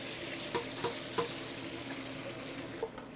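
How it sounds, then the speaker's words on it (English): Ribbon-cut potatoes fry in a deep fryer, oil hissing and bubbling steadily with a few sharp crackling pops scattered through the sizzle. "We'll throw these right here in the fryer."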